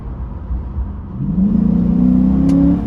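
A Chrysler 300S fitted with a Pedal Commander accelerates under light throttle, its engine rising from a low rumble to a steady, building drone heard from inside the car, fairly loud and close, with no talking.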